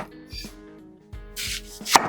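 A knife chops an onion for a soup on a cutting board, giving a few distinct, fairly quiet chops separated by short pauses, with no voices.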